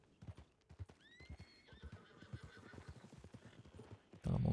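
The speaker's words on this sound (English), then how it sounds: "Is that a wild horse?" A wild horse in a video game whinnies in a rising, wavering call over the steady clip-clop of hooves, followed by a sudden loud burst at the end.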